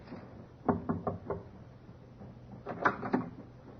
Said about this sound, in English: Captain knocked.